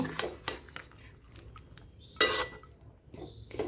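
A spoon scrapes and clinks against a pan while pumpkin chhokka with grated coconut is stirred, giving a few sharp metallic knocks spaced among softer scraping in a quiet kitchen.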